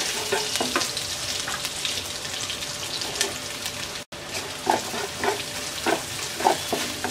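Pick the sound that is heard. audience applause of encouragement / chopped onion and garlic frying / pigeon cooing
chopped onion and garlic frying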